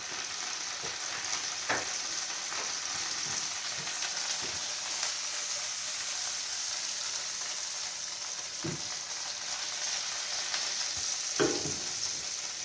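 Butter sizzles steadily in a hot pan ahead of an omelette, a continuous bright frying hiss with a few soft clicks and pops, close and uninterrupted, with no talking.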